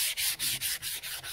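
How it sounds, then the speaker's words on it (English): Sandpaper scuffing by hand across the dash pad of a 1972 Chevy Nova, in quick, even back-and-forth strokes with about six rhythmic passes, close and loud, with no talking. "this is my second piece by hand. And basically, you just want to kind of scuff over it like this"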